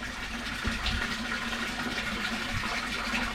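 Pond pump in a one-day quarantine pond build drawing water, a steady continuous gushing, filling flow with a low hum underneath, fairly close and constant throughout.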